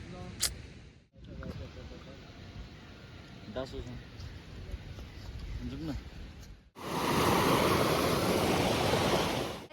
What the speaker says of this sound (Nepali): यहाँ तल चाहिँ खोला हो